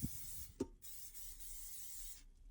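Cooking oil sprays in a fine steady hiss onto raw chicken wings about to go into an air fryer, close and faint, with a couple of brief knocks at the start.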